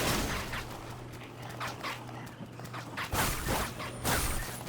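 Dogs in the video game Bloodborne, played at 200% speed, bark and yip in quick, high-pitched bursts over a busy, noisy game soundscape, sounding close and fairly loud.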